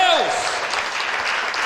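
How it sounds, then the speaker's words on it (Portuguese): A church congregation at a service breaks into steady applause, a dense wash of clapping that carries on evenly while a voice speaks over it. "Dá um aplauso bem forte ao Senhor"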